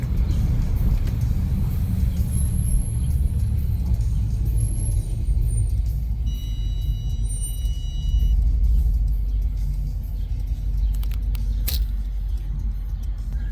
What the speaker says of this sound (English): that's just a small little cruise here in Toronto, in the Etobicoke area, in this beautiful Mercedes convertible